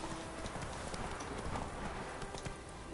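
Horse hooves clip-clopping at a steady trot in the video game The Witcher 3: Wild Hunt, a close, continuous rhythmic clatter of hoofbeats over ambient outdoor noise.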